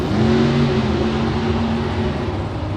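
A drag race car roars loudly at the start line of a Las Vegas drag racing event, a sustained close engine drone with a droning harmonic tone that slowly shifts.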